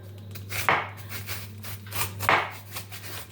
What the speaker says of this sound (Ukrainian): Хочу дрібненько-дрібненько нарізати капустинку і буду додавати її.